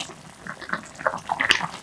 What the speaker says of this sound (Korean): 마늘을 넣어 잘 저어주며 보글보글 끓여주세요